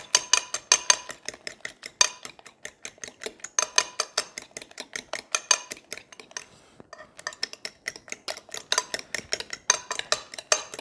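A utensil stirs chaffle batter with garlic salt in a bowl, a fast run of sharp clinks and scrapes that pauses briefly midway before resuming, close and clear with no talking.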